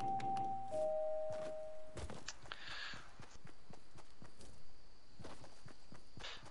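A doorbell on a house in a video game chimes as a soft two-tone ding-dong, followed by a long sustained tone, amid faint footstep-like thuds and clicks.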